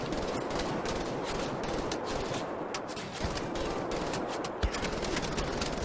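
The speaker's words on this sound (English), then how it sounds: "I'm already getting shot at by everyone" Dense, continuous gunfire rattles through a battle in the video game Wolfenstein: The Old Blood, with rapid overlapping automatic shots at a steady, loud level the whole way.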